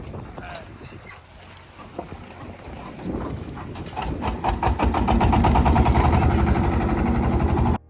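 A boat's engine putters on a river at Hajirhat in the evening. It is faint at first, with voices nearby, then builds into a loud, steady, rapid thrumming that runs to the end.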